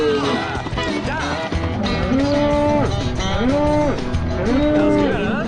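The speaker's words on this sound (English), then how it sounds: "So let's get this cow." Cattle low and moo repeatedly, three drawn-out calls coming at steady intervals over dense background noise during a cattle drive, with riders chasing down strays.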